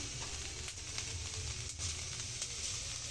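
Tilapia fish frying on a bed of salt in a pan, a steady close sizzle with crackling bursts and a low rumble beneath, continuous throughout with no talking.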